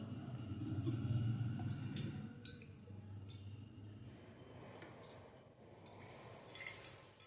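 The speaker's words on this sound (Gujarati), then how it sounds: "ત્રણ પાવડા તેલ નાખ્યું આપણે અંદર" Three ladlefuls of cooking oil pour into a hot kadai on a gas stove for a Gujarati cauliflower curry, a low, close pouring rumble followed by soft drips and light clinks, with no voices.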